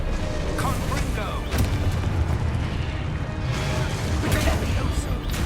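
A Confringo fire-blast spell from the wizarding game Hogwarts Legacy bursts with loud, booming explosive impacts, a steady barrage of blasts and crackles layered close and heavy throughout, with a voice calling out amid the din.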